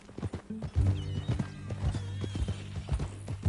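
A horse in Red Dead Redemption 2 clops along with close hoofbeats in an uneven rhythm, then lets out a loud whinny near the start, while a low voice murmurs in the background.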